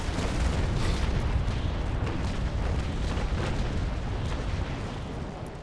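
Carronade broadside from a sailing ship in the Naval Action game, a Belle Poule duel: dense, continuous booming cannon fire and rumble sustained loudly across the whole stretch, with no talk.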